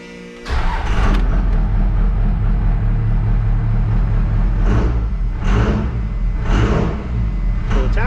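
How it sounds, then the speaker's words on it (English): Truck engine cranking and starting, then idling steadily nearby with several sharp revs spaced a second or so apart, loud and close with no talking. "Let's just fire the truck up here quick"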